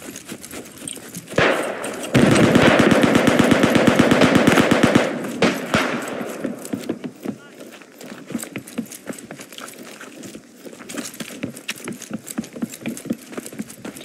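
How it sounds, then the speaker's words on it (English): Machine gun fire in the World War I shooter Beyond The Wire: a loud, close sustained rapid burst lasting a few seconds, preceded by single shots and followed by scattered distant gunfire and footsteps. "There is a machine gun south."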